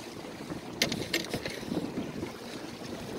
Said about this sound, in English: Wind really picked up.